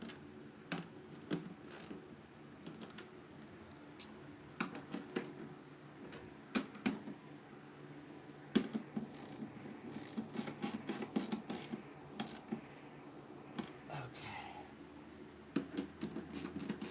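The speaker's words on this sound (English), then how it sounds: "we'll use the socket here. We'll tighten everything down." Socket ratchet tightening bolts during electrical work on a shuttle bus, giving quiet rapid clicking bursts repeated again and again with short pauses between strokes.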